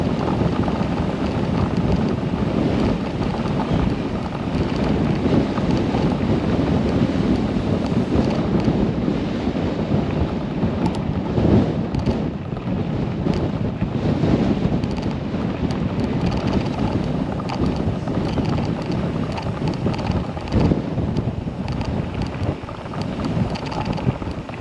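Strong wind buffets the microphone continuously, a loud roaring rush with gusty swells and no voices.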